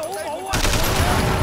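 Gunfire from the Sleeping Dogs video game bursts in after a quiet half-second, a dense, loud barrage of rapid shots that continues to the end.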